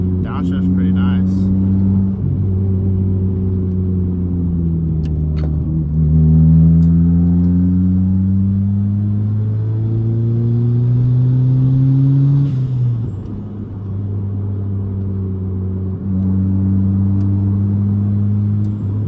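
A 1995 Honda Del Sol with a big turbo revs through the gears, its engine tone climbing in loud sweeps and dropping on downshifts, heard from inside the car with occasional voices in the cabin.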